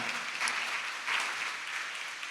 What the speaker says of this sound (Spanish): Dale un aplauso fuerte al Señor esta mañana